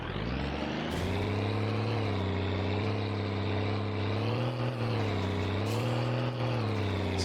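A car engine in My Summer Car idles steadily and close, a low droning hum with slight rises and falls in pitch across several seconds. No voices are heard.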